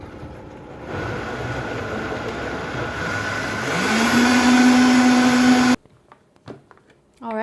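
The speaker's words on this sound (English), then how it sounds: "I'm just gonna blend this up till it's nice and creamy and liquid" A blender whirs steadily as it purées banana with coconut water and maple into a creamy milk, the motor climbing in pitch as it speeds up before cutting off abruptly, followed by brief quiet kitchen sounds.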